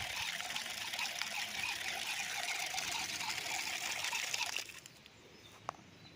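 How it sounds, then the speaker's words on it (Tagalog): Strong water flow gushing from a water line on a farm in Liliw, Laguna, a steady loud rushing hiss that drops off abruptly near the end, leaving quieter outdoor ambience with a faint bird call. "ang lakas ng tubig."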